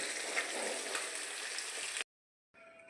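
Pabda fish rubbed with salt and turmeric frying in a pan, a close, steady sizzle for about two seconds, then silence and a quieter return of frying.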